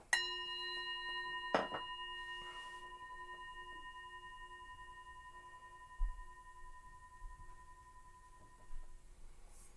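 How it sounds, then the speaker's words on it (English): A meditation bell struck once near the start, its clear sustained ring of steady pure tones slowly fading over many seconds, with a faint soft knock shortly after and quiet room sound beneath. "ringing the bell"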